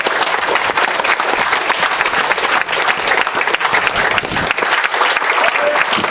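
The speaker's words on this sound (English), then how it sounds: "So parents, guys, let's give it a big round of applause." A crowd of parents and players at a rugby club's senior night gives loud, sustained applause, dense clapping at a steady level with faint voices mixed in.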